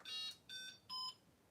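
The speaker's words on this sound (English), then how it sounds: "So third channel, I'm going to arm it and it'll start beeping." Three evenly spaced high electronic beeps from the arming beeper of a Redcat Rampage XR gas-powered RC rally car, each about a third of a second long, fairly faint and with nothing else over them.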